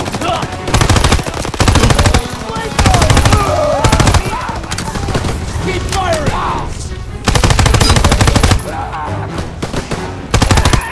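Machine gun fire in Call of Duty: WWII, loud sustained bursts of automatic fire stuttering in repeated volleys across the scene, with short gaps between bursts and faint voices in the background.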